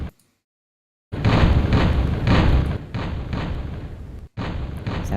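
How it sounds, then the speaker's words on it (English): Cannon fire in the Flexbox Defense tower-defense game plays as a dense, continuous rumble of overlapping booms after a second of silence, loud and sustained with one brief gap. "Is quiet cannon fire sustainable?"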